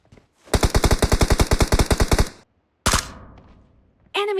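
Automatic rifle fire in the mobile battle royale game PUBG Mobile: a rapid burst of about sixteen loud, close shots over two seconds, then a single sharp blast with a decaying tail, and a brief voice at the end.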